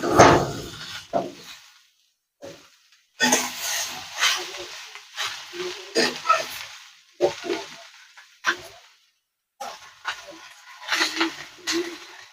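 Snake gourd frying in a pan while being stirred, bursts of hissing sizzle and scraping in irregular waves with short quiet gaps between stirs, close and moderately loud.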